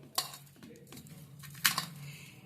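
Flattened rice being mixed with green peas, salt and sugar in a bowl by hand, giving soft scraping and a couple of sharp clinks against the dish, close and fairly quiet with no talking.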